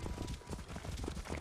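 Horse hooves clip-clopping in a steady, rapid rhythm as a horse is ridden in the video game Assassin's Creed Origins, continuous and fairly close throughout.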